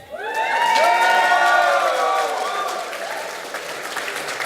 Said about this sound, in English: can we all give a big round of applause